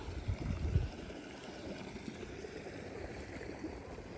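Irrigation water runs through a farm field channel, a low steady rushing and gurgling flow outdoors, moderately faint with a slightly louder burst at the start and no talking.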